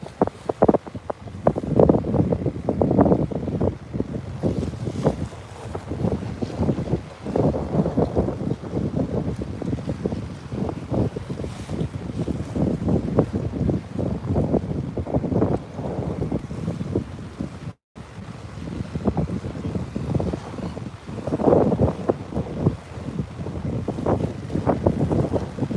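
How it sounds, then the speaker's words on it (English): Strong gusty wind buffets the microphone over the bay at Bayside, Texas, with a steady roaring rush and rumbling surges that never let up, and no voices. "it's kind of windy today"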